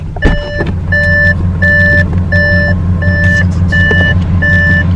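An Audi S8 gives a steady series of evenly spaced electronic beeps, about eight in a row, over a low engine hum, close and clear.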